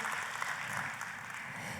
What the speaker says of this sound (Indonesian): Oh kalau mau tepuk tangan yang paling meriah.